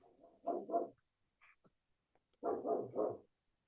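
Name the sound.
dogs barking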